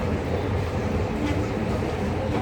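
The Darjeeling toy steam train at a railway station gives off a steady, close, continuous rumbling roar of rolling stock, with no clear talk on top.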